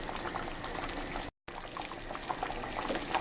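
Nigerian white soup with yam bubbling steadily in a pot, a constant close simmering and gurgling wash broken by a brief silent gap.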